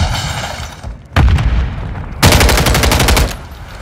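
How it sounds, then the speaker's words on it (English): Loud bursts of automatic gunfire in Call of Duty Modern Warfare III multiplayer on Sub Base, with a heavy blast and rapid rattling volleys close by, the stun grenade not clearly distinguishable. "Stun grenade out!"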